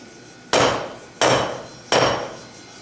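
A blacksmith's hammer chamfers the corners of hot metal, three sharp, loud ringing blows at an even pace about two-thirds of a second apart, each one decaying quickly.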